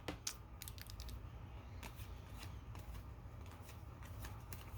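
Tarot cards shuffled by hand in a quiet room, a run of quick papery riffles and flicks, clustered near the start and scattered after, close and moderately soft over a steady low hum.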